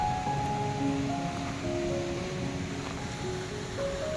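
River water rushes steadily in Tirthan Valley, Himachal Pradesh, a broad unbroken wash of flowing water heard close by, with faint tonal hum threading underneath and no voices.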